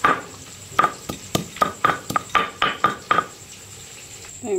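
Ginger and green chillies being pounded into a paste on a grinding stone: a steady series of sharp knocks and scrapes about half a second apart, close and fairly loud, with no talking.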